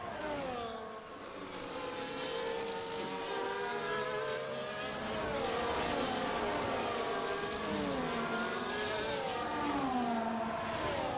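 A Haas Formula 1 car in the racing game F1 24 screams along with its DRS flap wide open, the high engine note steady and loud with rising and falling gear-change sweeps throughout, no voices over it.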